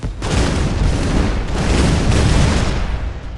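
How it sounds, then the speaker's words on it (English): A fireworks weapon goes off in the artillery game Shellshock Live, a loud dense crackling roar of blasts and pops that fills a few seconds before fading out. "be careful when shooting fireworks close to a wall"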